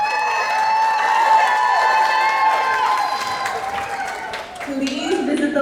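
A theater audience cheers and applauds loudly, sustained clapping mixed with whoops and high-pitched shouts, with voices rising above the crowd noise and the roar easing slightly near the end.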